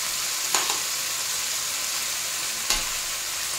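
Chicken breast sizzles steadily in a pan, a continuous close frying hiss with two brief clicks of utensil contact.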